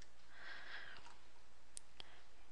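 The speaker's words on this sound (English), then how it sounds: "I'm just right clicking and hitting copy, and then right click and hit paste." Computer mouse clicks while copying and pasting text at a desk, a few sharp, faint isolated clicks close by over a quiet room hiss.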